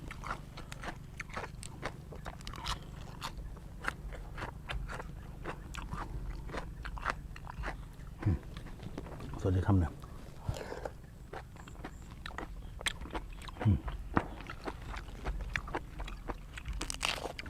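Crisp chili being chewed with close, irregular crunching bites during a meal of Thai-style spicy seafood dipping sauce, the crackly mouth noises continuing steadily without talk.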